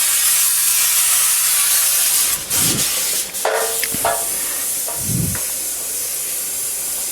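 A steady loud hiss of pressurized water from an RO water purifier pump rushes continuously up close, with a few faint knocks and clicks over it.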